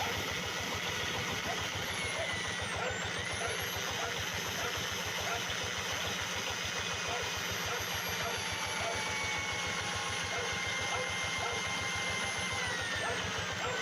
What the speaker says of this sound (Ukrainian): тому що працює мотоблок